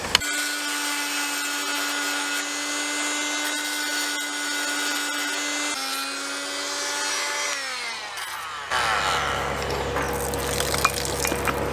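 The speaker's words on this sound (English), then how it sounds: "I'm going to just try cutting a square profile at the back of this hub" An oscillating multi cutter cuts into a seized propeller hub with a loud, sustained buzzing whine, a steady pitch for several seconds that drops and grows rougher and grittier as the blade bites, running alone without talk.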